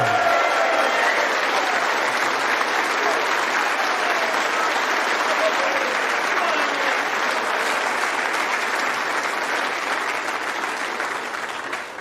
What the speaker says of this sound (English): Please give a huge round of applause. Let's hear it for Judd Trump!